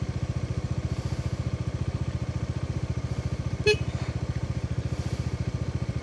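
Bajaj Dominar 400 motorcycle idling close by at a waterfall spot in Vagamon, a steady, even low putter with rapid regular pulses, and one short sharp noise partway through.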